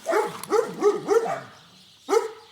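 A dog barks close by in a quick run of four sharp barks, then pauses briefly before one more bark, heard alone and clear on a farm.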